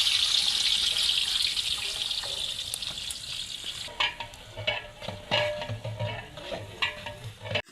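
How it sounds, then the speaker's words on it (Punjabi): Onions are added to a large deg cooking pot in an outdoor village setting, a hissing sizzle that fades into scraping, stirring and splashing clatter, moderately close and without talk. "ਲੋ ਜੀ ਪਿਆਜ਼ ਅਸੀਂ ਦੇਗ ਦੇ ਵਿੱਚ ਪਾ ਦਿੱਤੇ ਨੇ"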